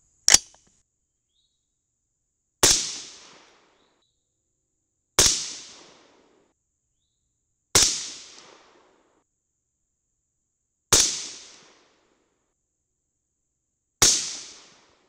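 Six sharp .223 rifle shots with CCI No. 41 primers ring out alone, spaced a few seconds apart, each a loud crack followed by a short decaying echo.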